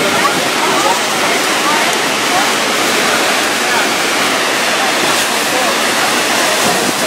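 Niagara Falls roars from a tour boat, filling the scene with loud, dense, steady rushing water, constant and close throughout.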